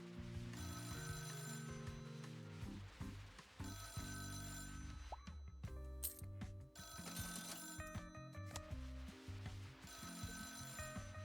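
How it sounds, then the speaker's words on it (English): A telephone in a video game demo rings over and over in repeated electronic bursts, loud and up close and mixed with game music and effects. "that phone's just gonna ring, isn't it? He's not gonna relent. We're gonna have to answer that phone call."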